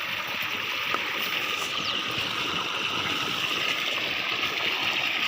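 Borewell water gushing steadily into a peanut field channel, a continuous rushing and splashing flow heard close and even throughout, with no speech over it.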